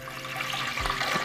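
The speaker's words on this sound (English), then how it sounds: "Here I have 2 liters of clean filter water, so I'm going to fill the water tank with that." Clean filtered water poured from a container into the water tank of a Breville Barista Express espresso machine, a steady close pouring and splashing wash that runs the whole short moment with no talking.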